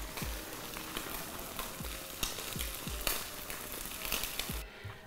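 Octopus and potatoes sear in a hot pan with a constant crackling sizzle, close and fairly quiet, with occasional soft pops.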